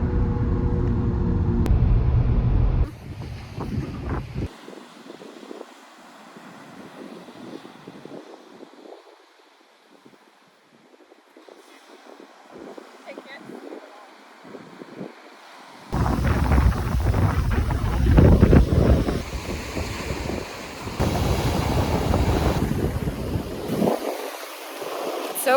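Strong wind buffets the microphone at a warm beach, with surf rolling in the background; gusts rise and fall, growing loud and roaring through the latter half.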